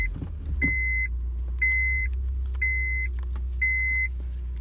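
A Honda Fit's engine turns over and settles into a steady low idle, while four evenly spaced electronic chime beeps sound over the running motor.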